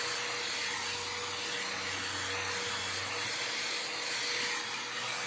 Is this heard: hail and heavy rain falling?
no